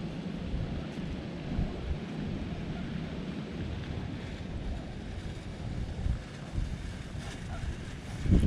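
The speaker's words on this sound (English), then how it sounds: "That wind's picking up a fair bit" Steady wind gusts and buffets the microphone in a rough, continuous rumble outdoors in the Indonesian jungle, with a few stronger surges.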